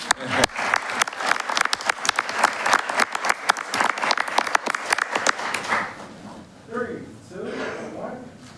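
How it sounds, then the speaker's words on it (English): Audience at a city commission meeting breaking into dense, close applause for several seconds, thinning out as a voice begins speaking toward the end. "you might want to give an applause for this"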